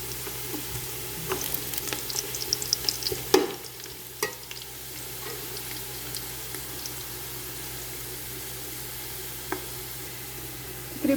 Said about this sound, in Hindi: प्याज़ों को ब्राउन होने देंगे हम।